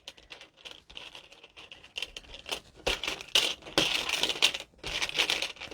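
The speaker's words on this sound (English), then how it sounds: "Need to shuffle these around a little bit more." Bingo pieces shuffled by hand at a stamping-supply catalog party, a dry rattling and crinkling clatter in irregular bursts that grows busier and louder toward the end, close by and heard alone.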